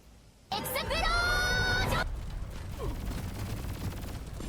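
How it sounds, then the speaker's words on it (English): Video game grenade launcher firing with a modded explosion sound: a sudden loud burst with bright, ringing sweeping tones for about a second and a half, then a rumbling tail and scattered noise. "I saw that mod just on the list, just like Megumi explosion for the fucking grenade launcher"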